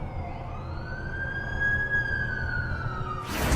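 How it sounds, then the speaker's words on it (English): An ambulance siren in the video game The Amazing Spider-Man 2 wails as one long rising and falling tone over a steady rumble of city traffic, ending in a sudden burst of noise. "That's the ambulance I called."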